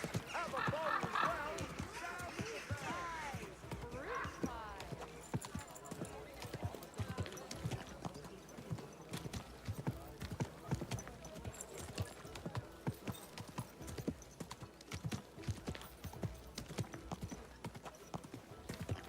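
Horse hooves clip-clop steadily in the medieval game Kingdom Come Deliverance 2, with a rhythmic trot and a brief neigh near the start, while someone talks over it.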